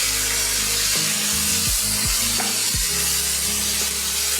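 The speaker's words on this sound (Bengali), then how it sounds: "এইভাবে ঢাকা দিয়ে মাংসটা পুরো ভেজে নিই।" Chicken pieces frying in a pan under a lid, a loud steady sizzle with a low hum and several scraping, knocking handling sounds in the middle.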